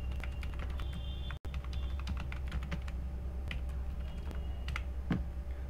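Rapid, uneven keystrokes clatter on a computer keyboard while Python code is typed, close and crisp over a low steady hum, with no speech.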